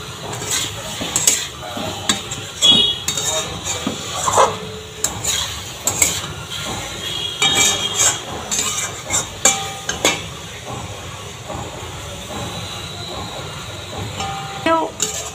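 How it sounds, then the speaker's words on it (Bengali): Potatoes and eggs fry in oil with spices in a pan for egg curry, stirred with a utensil, giving continuous scraping and clattering strokes over a soft sizzle. "এবার এই তেলের সাথে, মশলার সাথে আলু ডিমটাকে কষে নেব।"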